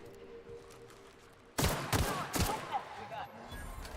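Several loud, close bursts of gunfire from a sci-fi shooter game in The Outer Worlds, a sharp blast followed by a couple more heavy reports and ringing tails, starting after a quieter stretch.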